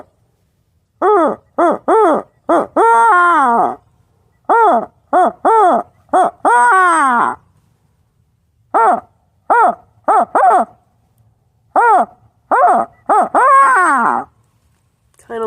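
An owl hooting call made by a turkey hunter's voice imitates a barred owl with loud, close rolling hoots in grouped phrases, ending in a drawn-out wavering cackle.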